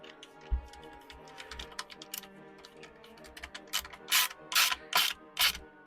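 A screw is driven by hand into a square nut while fitting the foot drives of an R2-D2 replica build, giving quiet, irregular ratcheting clicks and scrapes that grow louder and more frequent toward the end, with no voices.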